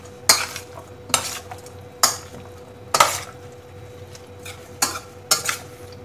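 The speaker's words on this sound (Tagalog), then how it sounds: "Ayan, i-mix lang natin." A spoon mixes kinilaw na dilis, raw anchovies with ginger, in a bowl, giving six sharp, evenly spaced scraping clinks close by with short wet rustles between them and no voices.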